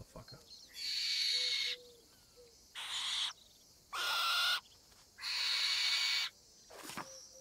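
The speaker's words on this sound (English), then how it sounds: "And the barn owl. Yep, the barn owl." Barn owl in the video game Alba: A Wildlife Adventure gives several long, harsh, hissing screeches, each lasting about a second, separated by short quiet gaps, with faint low tones between the calls.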